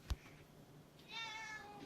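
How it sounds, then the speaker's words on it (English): A cat gives a soft, drawn-out meow at close range in a quiet indoor room, after a brief thump. "Or are you just gonna meow at me?"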